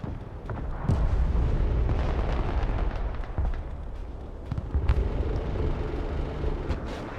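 Rockets launching in a real-time strategy video game, rumbling booms and sharp blasts that roll on continuously, with a few louder hits standing out against dense battle noise, loud and close.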